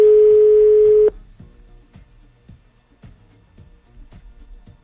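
A telephone dial tone sounds during a Hungarian radio morning show's call to a contest winner: one loud, steady tone lasting about a second, then it cuts off, leaving a quiet line with faint regular clicks.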